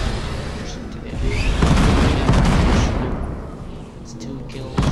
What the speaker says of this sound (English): So impact explosion.